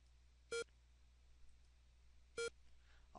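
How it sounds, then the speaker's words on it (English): Water dripping in the Manhunter: New York computer game, rendered as short, bright electronic beeps, two evenly spaced blips with a third starting at the end, alone over a faint hum. "But no, it's the dripping of the water."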